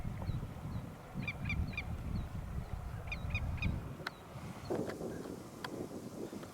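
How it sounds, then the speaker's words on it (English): Migratory swans passing over Pakowki Lake in Alberta give repeated faint, honking calls in small clusters, heard at a distance over a low rumble of wind. "Some migratory swans over here passing through."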